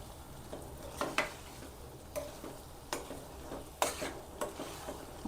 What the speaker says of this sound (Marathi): हे आपण आता थोडं मिक्स करून घेऊया मटर